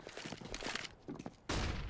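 Gunfire in the tactical shooter CS:GO during a professional match on the Mirage map, rapid shots in a cluster and then a sudden louder burst at the end, with footsteps and play noise around it.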